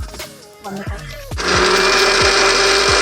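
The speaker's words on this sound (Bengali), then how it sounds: "এই তো আইস কিউব এখানে অ্যাড করে দিচ্ছি। এখন এটাকে আবার গ্রাইন্ড করব।" An electric blender grinds ice cubes for a chocolate drink: after a few clunks of ice dropping in, the motor kicks on into a loud, harsh, steady whine with cubes rattling against the jar, close up.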